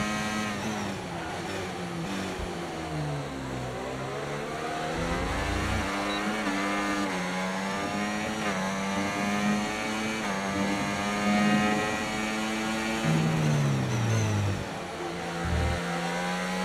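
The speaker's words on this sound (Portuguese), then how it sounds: "depois da Ferrari é o motor com som mais bonito" An F1 car engine in the F1 24 racing game revs high and steady, its pitch climbing through gears and dropping on downshifts, loud and continuous throughout.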